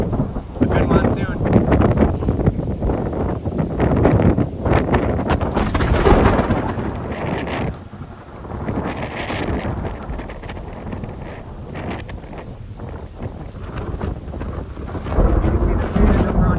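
Monsoon thunderstorm over Lake Powell with rolling thunder, heavy rain and strong wind gusting into the microphone, loud and continuous, with faint speech briefly under the storm.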